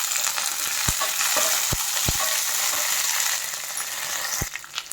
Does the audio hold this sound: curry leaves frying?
yes